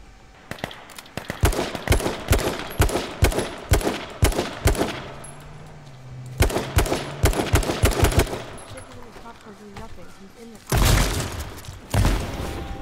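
Gunfire in the H1Z1 King of the Kill video game: sharp, loud bursts of rapid shots in rhythmic volleys, stopping briefly and then returning as heavier blasts near the end.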